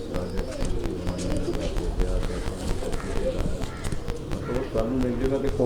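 Pigeons, kabuli and patti breeds, cooing softly and repeatedly over a muffled, busy background with light tapping noises.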